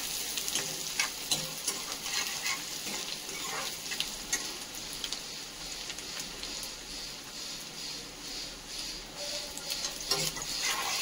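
Chopped onion frying in a pan for an Indian tinda curry, a steady close crackling sizzle with faint stirring that runs throughout without talk.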